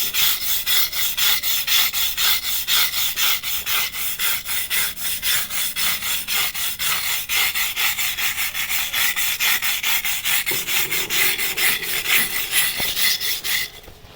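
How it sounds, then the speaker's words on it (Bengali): Steady rhythmic rasping scrub of a piece of wire fence rubbed against moss-covered ground, close and loud, repeating strokes continuously throughout with no talking. "এই দেখো নিয়েছি তারের বেড়া, এটা দিয়ে ঘষছি, অনেক শ্যাওলা ঘষ"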